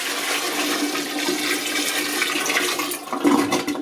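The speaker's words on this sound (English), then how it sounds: "And then I choose the flush without having to lift up the top." A toilet flushes after water is poured in by hand during a water cut-off, giving a loud, continuous rushing of water that swells slightly near the end.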